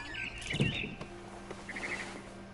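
Barn swallow chirping outside a window in the video game What Remains of Edith Finch: two faint, quick bursts of high twittering chirps with a soft low thump between them over quiet ambience.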